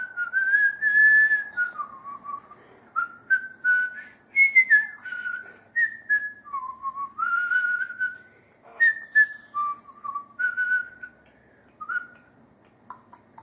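A pet parrot whistles alone in a quiet room, a long run of clear rising and falling tonal phrases separated by short pauses.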